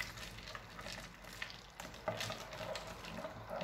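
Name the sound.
stirring sattu drink with ice and cold water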